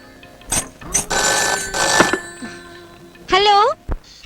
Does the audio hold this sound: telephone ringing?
yes